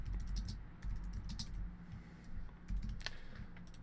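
Rapid, fairly close typing on a computer keyboard, with uneven bursts of key clicks over a low background hum and no talking.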